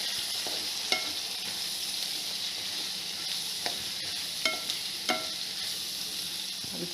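Onions sizzle steadily in hot oil in a pan while being stirred for a drumstick curry, a constant frying hiss broken by several sharp scrape and clink taps from the spoon, with no talking.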